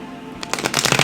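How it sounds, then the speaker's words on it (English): A quiet moment gives way to a brisk, close riffle of tarot cards, fluttering rapidly and growing louder toward the end. "Finally got a good shuffle there."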